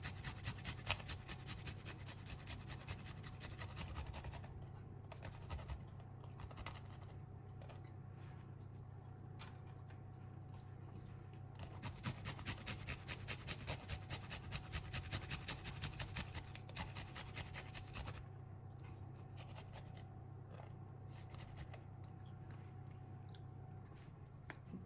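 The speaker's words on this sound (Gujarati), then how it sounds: "હવે એમાં ગાર્લિક છીણી દઈશ બધું" Garlic cloves are grated for garlic bread in a home kitchen, a quiet steady rasping scrape repeating in continuous strokes over a low background hum.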